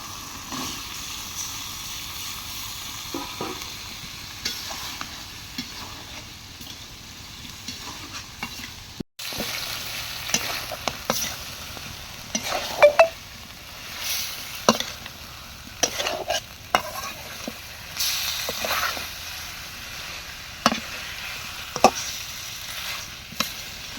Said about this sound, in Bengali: এখন দিয়ে দেবে ভেজে রাখা গোস্তটা।